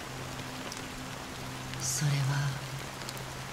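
Soft, steady rainfall patters on surfaces in the Honkai Star Rail video game, a faint even wash of drops with a low hum beneath it and a brief spoken word.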